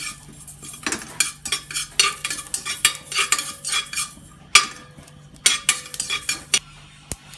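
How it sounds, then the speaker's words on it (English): Mustard seed, kalonji, fennel, cumin and a bay leaf roasting in a pan, with bursts of crackling and popping and a utensil scraping and clinking against the metal, close and moderately loud. "Now I need to roast the spices."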